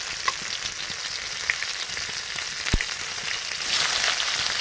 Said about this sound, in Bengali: ফোড়ন দেবো ঘন্টে সরষের তেল, পাঁচ ফোড়ন